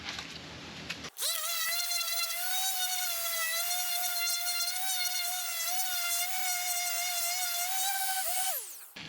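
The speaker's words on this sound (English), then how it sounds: "So this is 80 grit sandpaper, because I just got to take all the extra epoxy off" Power sander with 80 grit sandpaper taking excess epoxy off a scrap wood laptop stand, a loud, steady high buzzing whir that starts abruptly and runs for several seconds before stopping.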